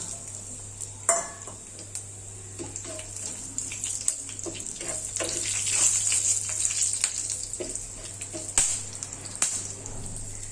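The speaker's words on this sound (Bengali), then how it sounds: "ওই তেলেই ফোড়ন দিচ্ছি গোটা জিরে, 3টে শুকনো লঙ্কা আর গোটা গরম মশলা।" Whole cumin, three dried chillies and whole garam masala spices frying in oil for a doi katla tempering, giving a steady close sizzle with sharp crackles and pops and no speech.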